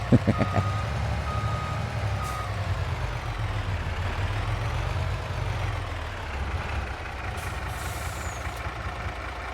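Truck reversing in Farming Simulator 22, with a steady run of evenly spaced warning beeps over a heavy idling diesel rumble and occasional air-brake hiss.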